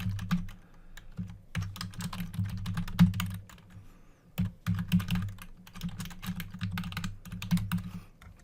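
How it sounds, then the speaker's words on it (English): Fingers type steadily on a computer keyboard entering email addresses, a dense run of clicking keystrokes in bursts with a couple of short pauses, close and moderately quiet with no talking. "I'm just going to type in two email addresses"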